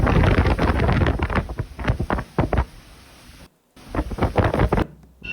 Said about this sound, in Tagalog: Pati yung hangin sumisipol sa sobrang lakas ng pagbayo